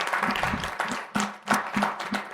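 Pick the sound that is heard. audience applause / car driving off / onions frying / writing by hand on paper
audience applause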